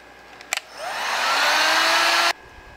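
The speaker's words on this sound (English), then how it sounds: "and now all we gotta do is use our heat gun." A heat gun blowing on shrink tubing over a coax feedline choke, a click and then a steady close airflow whir that rises and holds for about two seconds before shutting off abruptly.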